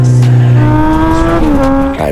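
A 2023 Kawasaki Z900's inline-four engine revs loudly and close, its tone climbing smoothly then shifting as it changes pitch over about two seconds.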